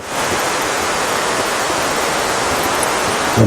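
Khandadhar waterfall in Sundargarh roars as a steady, loud wash of rushing water, a dense unbroken hiss that fills the whole stretch with no voices.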